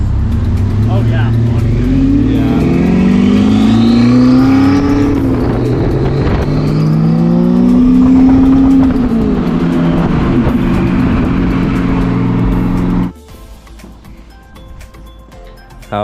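An Audi R8 sports car with a burning clutch drives close by, its engine revving up and down in rising and falling sweeps, then cuts away to quieter background; people talk faintly over it.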